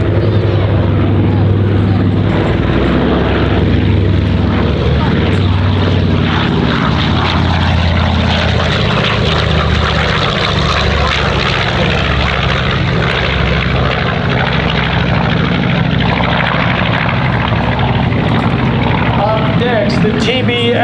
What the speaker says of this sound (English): From the left, B-25 Mitchell, Panchito.